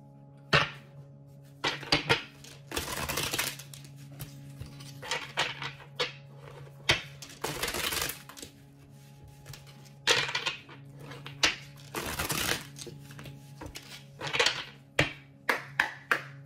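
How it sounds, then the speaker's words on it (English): Oracle cards being handled and shuffled, a series of soft riffling bursts and light taps in irregular clusters, close and fairly quiet, over a faint steady background hum. "let's get some oracle cards"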